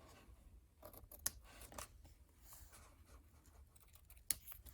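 Scissors trim paper for a Valentine bag in a few quiet snips, with two sharp crisp cuts standing out among softer paper rustling close by.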